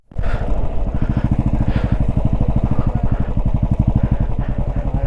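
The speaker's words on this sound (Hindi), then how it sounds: "फुल पॉइंट हवा भर जाने के कारण ना बाइक बहुत ज़्यादा बाउंस कर रहा है, हर एक छोटा छोटा पत्थर पे बाइक नाच रहा है।" Motorcycle with overinflated tyres riding off-road over stones in Ladakh, its engine thumping in a fast, steady rhythm, loud and close, with slight uneven jolts as it bounces along.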